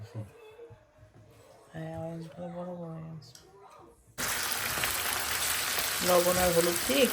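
Onion, garlic, potato and dried fish fry together with salt and turmeric. A quiet stretch of talk gives way to a sudden loud, dense sizzle partway through. A voice speaks over the frying near the end.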